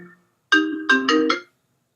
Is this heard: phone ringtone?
yes